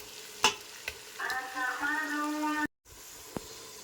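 A green paste of mint, coriander and chili is stirred into hot oil with tomato for a Chettinad chicken biryani, giving a steady, close sizzle with scraping stirs. A sustained tone and a brief dropout interrupt it partway through.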